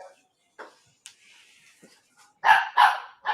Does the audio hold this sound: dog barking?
yes